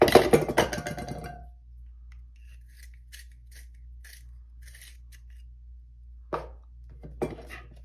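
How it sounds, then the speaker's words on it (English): A pencil being sharpened while preparing dot art mandala painting, opening with a brief close grinding rasp, then quiet with a few faint ticks and two small clicks. "I'm gonna sharpen my pencil real quick."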